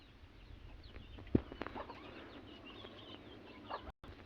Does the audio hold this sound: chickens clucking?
yes